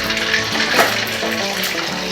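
Eggs go into smoking-hot canola oil in a pan, setting off a brief loud sizzle and crackle that keeps bubbling steadily, close up with no voices.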